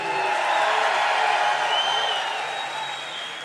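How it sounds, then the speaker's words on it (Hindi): A dense wash of audience applause and cheering at a literature festival in Quetta, steady and loud before slowly fading, with no distinct voices. "जरा और जोर से तालियां बजाएं"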